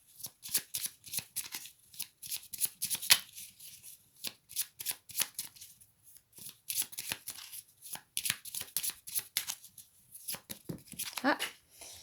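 Oracle cards being shuffled by hand: a fast, papery run of riffles and flicks with brief pauses between bursts, close and fairly crisp for about twelve seconds.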